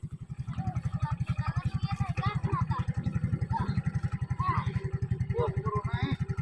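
Motorcycle engine revving in a rapid, pulsing throb close to the microphone, steady and loud throughout while people talk and shout over it.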